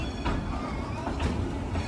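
The Dollywood Express 192 steam train rolls along with a continuous rumble of wheels and cars, with faint squeals and clatter of rail transport throughout.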